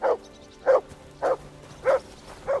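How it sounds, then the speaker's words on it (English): Dog barking in the video game Kingdom Come: Deliverance II, five evenly spaced, clear barks in a steady rhythm, close and alone without talk. "Good dog, Mutts. Show me."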